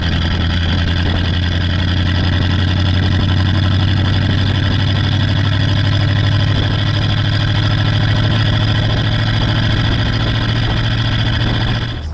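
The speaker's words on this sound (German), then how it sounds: "Das Auto macht einen irren Lärm" A 1938 Horch 951 A Pullman Cabriolet's vintage eight-cylinder engine runs steadily at idle, a loud, deep, continuous rumble with no voices, holding even for about twelve seconds.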